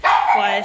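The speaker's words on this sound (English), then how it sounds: "I'm sorry for my dog who wants to be on camera" A dog barks once, a short close yelp that overlaps a person speaking in a kitchen while applesauce is being made.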